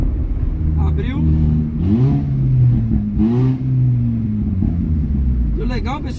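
A Hyundai HB20 with a 2.5-inch exhaust diffuser revs up and down in several loud, close surges, its rumbling engine note rising and falling with occasional popping from the exhaust.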